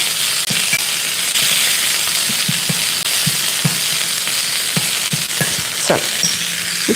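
A hot tempering of cumin, curry leaves and fresh coriander is stirred into a sweet-sour onion and raw mango chutney: a loud, steady frying hiss broken by light clicks and taps of stirring.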